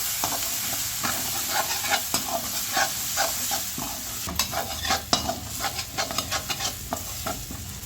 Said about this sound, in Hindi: सब चीज़ों को अच्छे से मसालों को हम भून लेते हैं